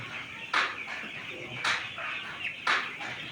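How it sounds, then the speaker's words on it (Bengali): A nine-day-old chicken gives three short, scratchy clucks at regular intervals while running, close by, over a soft steady background. "দেখেন মুরগিটা কীভাবে দৌড়াচ্ছে"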